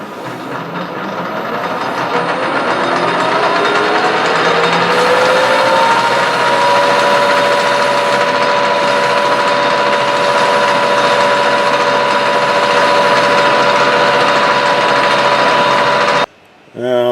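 Metal lathe turning down a center on a Hemingway Kit spherical ball turner part, a steady loud machine drone with sustained tonal whine that rises in pitch early on, running continuously until a brief cutout near the end.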